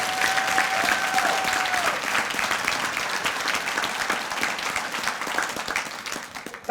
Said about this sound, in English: Give yourselves a round of applause for the work that you're doing.